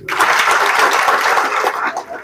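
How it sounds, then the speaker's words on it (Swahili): An audience claps at a dairy farmers' workshop in Meru, a dense burst of applause lasting about two seconds that fades slightly toward the end, with a few voices mixed in. "Makofi tena."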